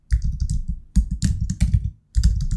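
Rapid keystrokes on a computer keyboard entering a git clone command at a prompt, close and clear, in three bursts of clicking separated by short pauses.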